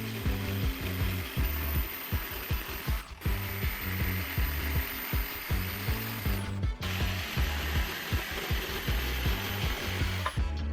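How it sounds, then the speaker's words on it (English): A jigsaw fitted with a long 10-inch blade saws through a thick wood slab, a loud, close, continuous rattling buzz with rapid rhythmic strokes and two brief pauses. "I had to order this 10-inch long jigsaw blade just to be able to cut the rest of the way through the slab"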